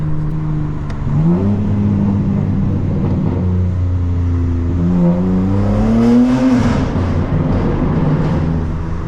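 A BMW G80 with a catless downpipe revs up and down, its exhaust rising to a rough, loud blare and dropping back twice, heard close by with no talking.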